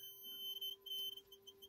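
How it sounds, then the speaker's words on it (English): A buzzer module on a four-digit static LCD board sounds a steady high electronic tone with brief louder pulses, close and alone, with no talk. "if it's not having any jumper, it's beeping like an idiot"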